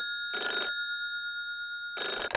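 An old telephone bell rings in two short bursts separated by a pause, clear and close with no talk over it.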